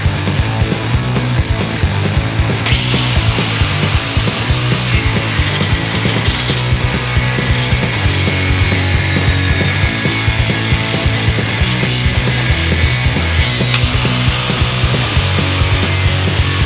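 A power tool cuts a small metal strip for a bracket while working on a 1972 Cadillac hearse, a loud continuous grinding, rasping whine, close up and unbroken for over fifteen seconds, with pitch shifts as the cut progresses and no voices.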